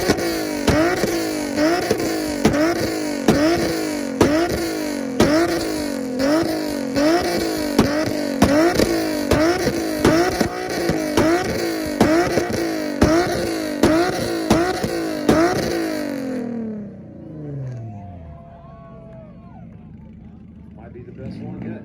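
An Infiniti G37 with its VQ engine fires a long run of rapid rhythmic two-step limiter pops at a rev battle event, loud and close, then the engine note drops away and fades near the end.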